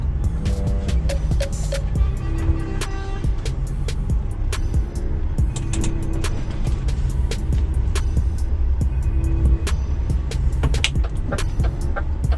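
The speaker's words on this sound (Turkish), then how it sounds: "buradan da araç geliyor." A vehicle approaches along a narrow street, its engine a steady low rumble and hum that stays continuous and fairly loud throughout, with faint clatter and traffic noise around it.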